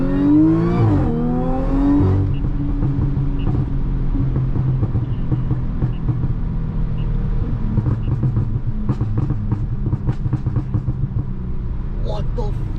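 A 440-horsepower supercharged Audi S4 revs its engine once with a rising, rough drone. It then settles into a steady, droning cruise from the cabin. Sharp exhaust pops and crackles follow in irregular bursts toward the end.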